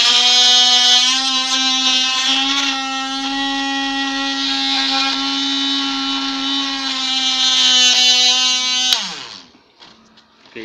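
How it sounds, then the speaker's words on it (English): A homemade mini bench drill press drills through a piece of paper, giving a loud, steady, high motor whine that holds for about nine seconds before spinning down and falling quiet. "Let's see if we can drill a hole through paper."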